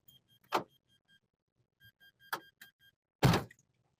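A car door shuts with a dull thunk, alongside a couple of quieter clunks and faint intermittent beeps inside the car. The final slam is the loudest and nearest.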